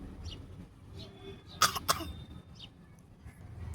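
Two sharp coughs close by, quick and harsh, over a quiet, faintly noisy outdoor background with a few distant bird chirps.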